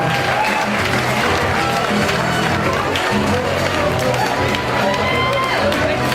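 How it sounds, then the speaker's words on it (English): Audience at a charity fancy-dress dance competition applauding and cheering dancers from a rugby club and a football club, a dense, loud, continuous roar of many clapping hands and shouts that holds steady throughout. "let's clap them off the floor"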